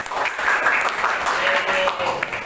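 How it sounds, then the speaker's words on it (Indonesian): A class claps for a student group after their presentation, a dense, even burst of applause lasting a couple of seconds with voices mixed in. "Beri aplaus untuk kelompok artikel."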